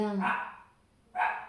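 A dog barks twice, two sharp nearby barks about a second apart.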